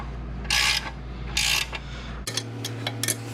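Ratcheting a bolt from the top side while installing an SLR mini angle kit on a BMW E46, with short mechanical ratchet bursts and clicks close by, then a low steady hum.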